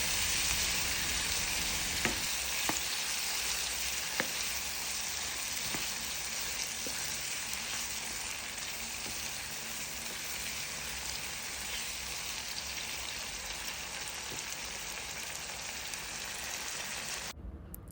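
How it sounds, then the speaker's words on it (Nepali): Tomatoes cooked with spices sizzle and fry steadily in a pan while keema is prepared, a loud, continuous crackling hiss close by with a few scattered pops and spoon scrapes. "त्यसपछि मैले टमाटर राखेर एकछिन टमाटरलाई मजाले पकाएँ"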